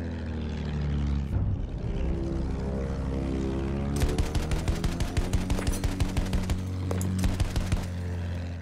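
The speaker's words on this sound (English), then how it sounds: "That's a machine gun from the fucking..." Machine gun fire in Battlefield 1 rattles in rapid bursts over the steady drone of an attack plane's propeller engine, with a quick earlier crack, loud and close.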